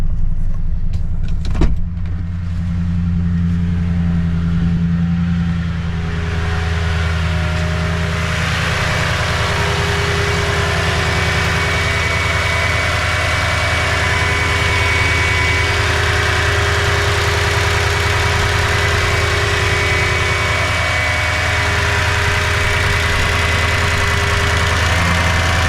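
A Toyota Tundra truck engine idles steadily with a low, even rumble and faint hum, running on for the whole stretch with no talking.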